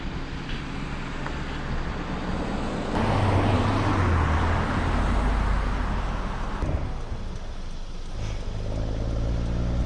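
A car on the road rushes past a runner, swelling into a loud low roar over about three seconds before fading, with steady road and wind noise around it.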